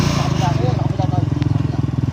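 Motorcycle engine running close by with a pulsing, uneven throb that continues through the clip, with voices talking over it.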